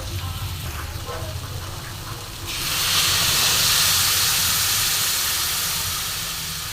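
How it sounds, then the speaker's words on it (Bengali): Tomato water poured into a hot pan of small-fish curry with potato and papaya: a quiet simmer, then a sudden loud, broad steaming hiss that swells and slowly fades, with no voices. "টমেটো জল দিয়ে দিচ্ছি এর মধ্যে"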